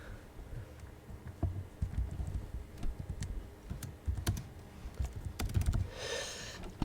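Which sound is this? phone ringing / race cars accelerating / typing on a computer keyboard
typing on a computer keyboard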